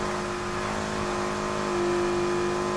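A flat-four Lotus Exige S runs hard in Need for Speed Heat, its engine droning loud and steady with a slight rise near the end and nothing else over it.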